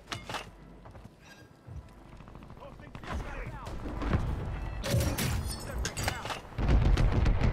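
Gunfire in a Call of Duty battle crackles in bursts, with heavy booms and rapid shots that grow louder and denser toward the end, mixed with background game noise and chatter.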